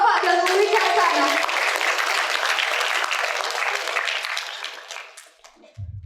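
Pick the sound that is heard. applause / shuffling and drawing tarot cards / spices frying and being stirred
applause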